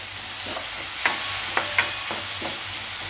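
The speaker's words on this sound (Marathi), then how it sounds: "आता यामध्ये चिरलेला कांदा टाकूया. कांदा चांगला फ्राय करून घेऊया." Chopped onion with curry leaves sizzles in a pan, a steady crackling fry punctuated by several sharp stirring scrapes and clinks.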